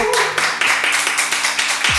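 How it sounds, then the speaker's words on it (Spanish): A whole team joins in a strong round of applause at the close of a talk session, dense overlapping claps forming a loud, steady wash for two seconds. "Un fuerte aplauso"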